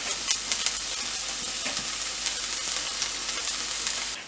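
Onion and tomato sauté in a pan with a continuous hiss of frying, soft stirring scrapes now and then and no one talking.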